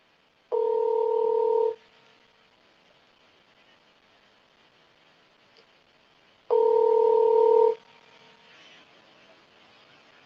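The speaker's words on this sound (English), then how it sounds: "you hear this phone ringing" Telephone ringback tone sounding in two long buzzing rings about six seconds apart, each lasting roughly a second, clear and steady with near silence between them.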